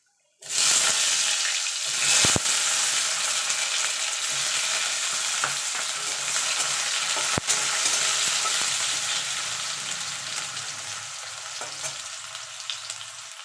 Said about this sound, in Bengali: এই তেলে আমি আলু আর বেগুনটা ভেজে নেবো